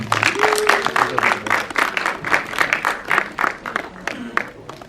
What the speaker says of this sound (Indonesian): Berikan tepuk tangan untuk Muzaki Ramdan.